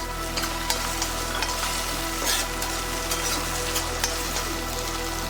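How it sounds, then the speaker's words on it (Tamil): Tomatoes sizzle and fry steadily in a pan while a country chicken curry cooks. The hiss is continuous and close, with small crackles and pops and no talking. "அடுத்தது நம்ம தக்காளியை போட்டுடலாம். தக்காளி நல்லா வேகட்டும்."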